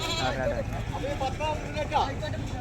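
A native-breed goat about six months old lets out a few short, wavering bleats near the end, partly under people talking close by amid steady outdoor background noise at a Sunday goat market in Chattiparamba.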